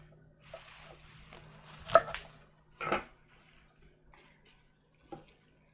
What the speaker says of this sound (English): give it a rough chop.